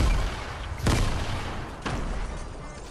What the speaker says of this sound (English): Ah, grenades!